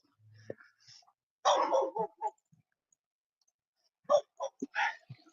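A dog gives a few short, sharp barks and yips in two brief bursts, separated by quiet, heard outdoors on a winter walk.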